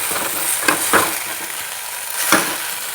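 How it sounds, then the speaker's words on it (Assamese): Maggi noodles with soy sauce stirred in a frying pan, a steady sizzle with several sharp scrapes of the utensil against the pan spaced irregularly, close and clear with no voices. "ইয়াৰ পিছতে মেগীখিনি ঢলাৰ পিছত চয়া চচ ঢালি দিব। এনেদৰে ভালদৰে মিলাই ল'ব।"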